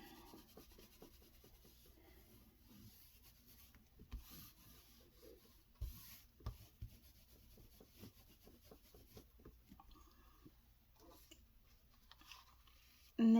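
Napkin collage paper being torn up by hand, soft papery rips and rubbing sounds in quiet bursts, close and faint, with a louder crackle near the end.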